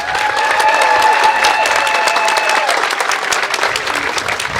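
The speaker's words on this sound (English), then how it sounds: "I think that deserves a round of applause for yourself" An audience applauds loudly at a community arts legacy event in Battle Lake, the clapping steady and dense throughout with a few faint cheers mixed in.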